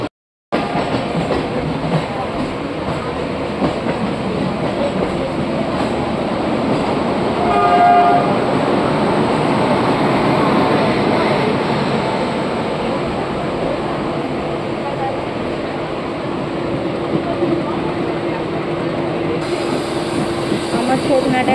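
A train runs along a rail line, heard from on board as a loud, continuous rumbling roar with rail noise, and a brief horn-like tone partway through.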